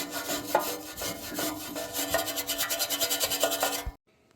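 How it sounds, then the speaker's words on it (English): Rust being scrubbed off metal parts during an interior restoration of a 1977 Dodge Ramcharger, a steady rasping, rubbing scrape with rhythmic strokes that speed up near the end, then stop abruptly into silence. "Something super satisfying about cleaning off rust."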